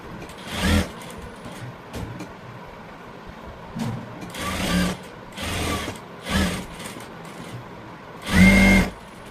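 A sewing machine stitches around a blouse in several short bursts separated by brief pauses. The loudest run comes near the end, with quiet handling sounds between the runs.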